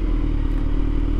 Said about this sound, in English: do you hear any like ticking noise when you're riding? It's like almost like valves.